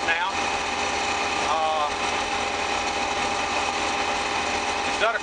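A combine harvester cutting wheat, its steady mechanical drone and whine running continuously at close range from inside the cab, with a few brief higher squeaks.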